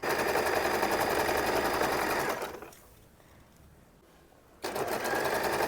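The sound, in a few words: sewing machine stitching a bedsheet corner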